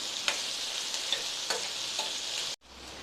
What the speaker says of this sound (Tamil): இப்போ மீடியம் ஃப்ளேமில் வச்சு இந்த வெங்காயம், பச்சை மிளகாய், காஞ்ச மிளகாய் எல்லாத்தையுமே ஒரு 2 நிமிஷத்துக்கு வதக்கிக்கங்க